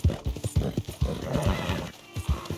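A horse in the video game Red Dead Redemption 2 snorting and whinnying alongside rhythmic clip-clopping hooves, close and fairly loud, in short repeated bursts.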